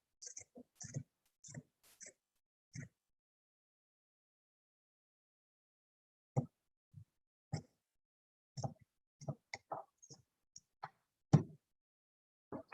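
Scissors snipping through a dish rag during a high school sustainability and engineering design session, heard as sparse, quiet clicking cuts in small bursts separated by long pauses.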